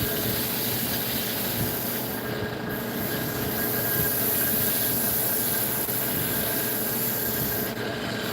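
A 180-grit sanding stick rubs steadily against a surface up close, a continuous loud scratchy hiss that holds for about eight seconds without any talk.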